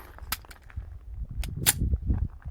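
Firearm shot loaded with a multiple impact projectile round, a few sharp, loud cracks in quick succession indoors with brief echoes.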